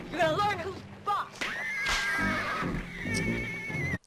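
Horses neigh and whinny in shrill, wavering bursts, with slaps or whip cracks and some hoof movement mixed in. Human voices are faint underneath.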